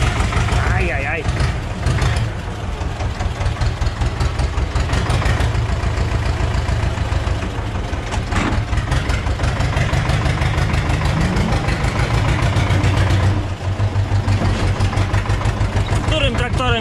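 Old Ursus tractor engine running steadily at idle on a farm, a continuous low rumble throughout, with people talking over it.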